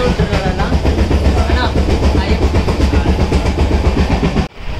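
Passenger train on a trip to Tirupati, heard from inside a carriage: a loud, steady rumble with rhythmic clatter of wheels over rail joints runs throughout, then drops suddenly near the end.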